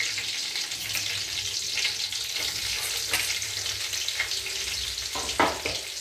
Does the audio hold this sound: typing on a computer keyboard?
no